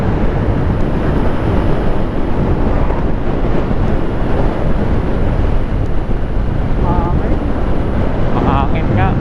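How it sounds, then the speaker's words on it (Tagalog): Wind blasts into the microphone on a motorcycle adventure ride along Ilocos roads, a loud, constant low roaring buffet that barely varies and covers the entire stretch, with faint bits of voice under it. "Mahangin nga."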